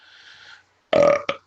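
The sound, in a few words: burp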